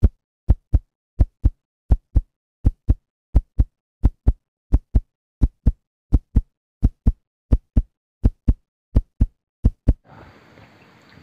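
Heartbeat sound effect: a steady run of paired low thumps at a calm resting pace, loud and isolated against silence, ending in a short patch of noise.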